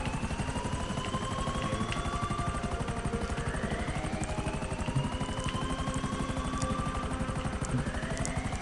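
Helicopter in a GTA video game: a steady, dense rotor chop and turbine whine, loud and continuous throughout with gently shifting engine pitch and no talking over it.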